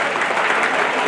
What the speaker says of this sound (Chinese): 我们鼓掌谢谢大嫂们